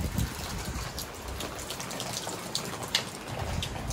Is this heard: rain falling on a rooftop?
yes